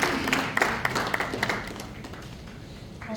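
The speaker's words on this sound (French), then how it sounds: "Sous vos applaudissements." Audience at a B2B business event applauds with scattered, fairly close claps that thin out and fade over a few seconds, leaving a low background.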